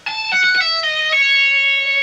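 Bright electric guitar notes ringing out, with quick pull-offs dropping to a lower sustained tone; no voices.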